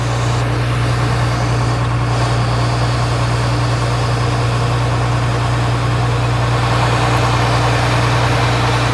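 A diesel tractor engine pulling a trailer bogs down under load, giving a heavy, continuous low drone that stays loud and steady throughout, with no voices.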